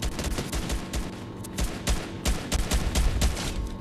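Rapid bursts of gunfire in the Fortnite video game, sharp repeated shots in quick clusters over a busy game background, with no talking.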